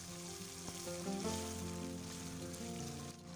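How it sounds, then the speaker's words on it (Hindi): Chicken with black pepper lightly frying in a pan for white chicken karahi, giving a steady, soft sizzle throughout with no talking. "इसको मिक्स करेंगे और इसको फ्राई करेंगे हल्का सा।"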